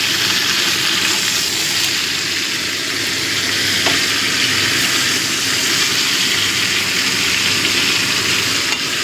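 Mixed vegetables and tomato sizzle and fry steadily in a pan for a vegetarian curry, a continuous close, loud crackle with faint stirring scrapes and no voices.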